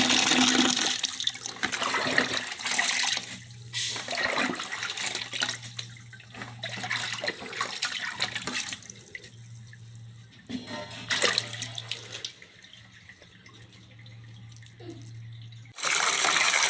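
Tap water runs and splashes while leafy greens are washed in a kitchen sink, a steady close stream broken by pauses and handling noises, with a faint low hum underneath.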